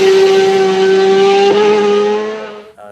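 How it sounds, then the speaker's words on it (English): A superbike of more than 200 brake horsepower on fat sticky tyres screams past at the Isle of Man TT, one loud sustained high-revving engine note that falls away as it passes. "super bikes with more than 200 brake horsepower, big sticky fat tyres on them"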